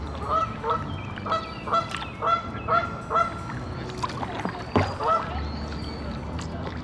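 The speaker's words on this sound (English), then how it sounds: "politely escorted out by the resident geese" Several geese honk repeatedly nearby on a lake, overlapping calls rising and falling over outdoor background noise with some water sounds.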